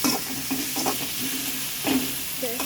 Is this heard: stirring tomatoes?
yes